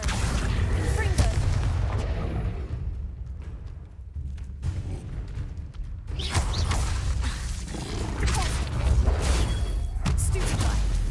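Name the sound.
spell blasts like Confringo in Hogwarts Legacy, a video game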